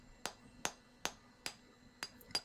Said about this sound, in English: Chiseling away at the boulder proves a slow and wearying endeavour